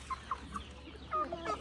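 Chickens on a small farm clucking in a few short, soft bursts, close by and fairly quiet over a low steady background hum.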